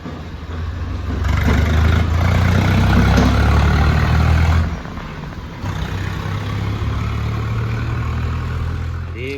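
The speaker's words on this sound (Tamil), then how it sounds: "வா வா வா, ஒரு டிராக்டர் ஒன்று வருது." A tractor engine approaches on a hill road and rumbles loudly nearby, a steady low drone that swells, drops briefly, then carries on strong.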